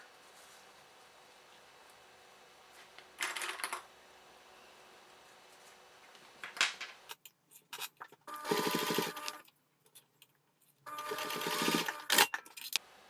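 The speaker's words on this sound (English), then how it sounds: "We're going to base stitch along that short raw edge." A sewing machine base-stitches along the short raw edge of a strap connector in several separate bursts, each a whirring run a second or two long, with quiet pauses between them and no talk.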